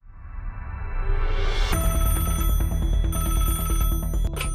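A telephone rings at a national child protection hotline, an electronic tone that swells in and then holds loud and steady with a repeating pulsed pattern, alone with no voices.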